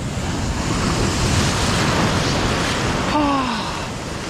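Steady broadband roar of ocean surf breaking and washing on the beach at Praia d'El Rey on Portugal's Silver Coast, continuous and fairly loud, with a brief faint tonal whistle near the end.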